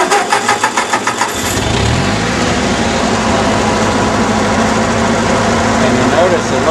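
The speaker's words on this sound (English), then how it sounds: "So I'm going to hook it up here to the battery, and we'll get the tractor started." A 1940 Ford 9N tractor engine cranks with a rapid pulsing starter rhythm for about a second, then catches and settles into a loud, steady running drone close to the microphone.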